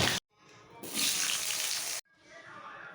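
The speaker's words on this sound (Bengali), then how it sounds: "এখন আমি এক এক করে সব সবজি ভেজে নেব।" Vegetables for shukto, such as green banana, papaya, potato, drumstick and bitter gourd, fry in hot oil with a close, steady sizzle that cuts in and out across several segments.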